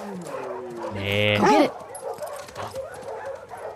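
A dog in the video game The Last of Us Part II gives a drawn-out whine followed by a couple of quick yelping barks. Someone talks over and after it.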